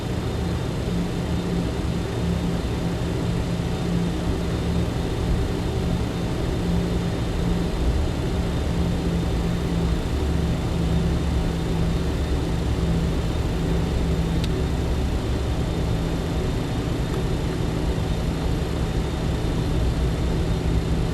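A single-engine propeller airplane in Microsoft Flight Simulator 2020 runs at a steady, loud drone as power is added to start taxiing, with an even engine hum throughout and no voices.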